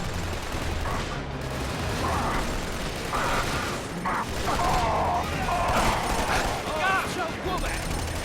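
Bursts of gunfire in the video game Killzone 2 crackle repeatedly under a continuous bed of game noise, with someone talking over the action.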